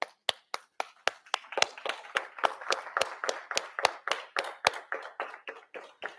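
Hands clapping in a steady, fairly quick rhythm of sharp individual claps for a school board meeting, a small group or single pair close by, no talking.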